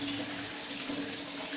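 Water rushes steadily from an automatic sensor-controlled tap fitted with an HC-SR04 ultrasonic sensor, a continuous close hiss of filling water with no break.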